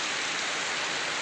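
Downpour of heavy rain in a village where drains are running full, heard as a close, constant roaring wash of water without any talking.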